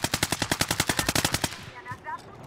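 Rapid automatic gunfire rattles in a steady burst of about fifteen shots during a Call of Duty: Modern Warfare match, then cuts off and leaves faint scattered game sounds.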